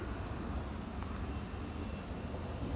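A FIMI X8 SE 2020 drone in flight gives off a steady, broad whirring drone, continuous and fairly distant, with no talk over it.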